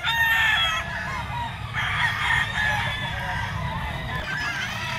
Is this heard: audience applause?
no